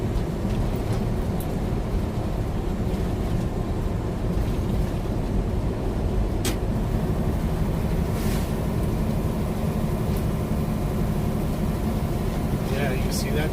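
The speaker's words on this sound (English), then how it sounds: "Yeah, you can see that truck. He was throwing up a waterfall." A truck drives past on a wet, slushy road in 11-degree cold, giving a steady broadband rumble of engine and spraying tire hiss throughout, with a voice talking over it.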